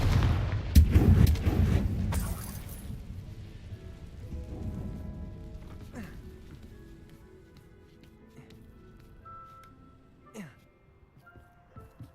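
Confringo blasting spell in the video game Hogwarts Legacy: one loud, close explosive burst whose rumble fades over several seconds, followed by a few fainter impacts, with speech in the game.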